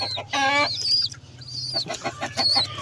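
Desi (native breed) chickens clucking and squawking nearby in short bursts over a steady low mechanical hum, with one louder cackle near the start.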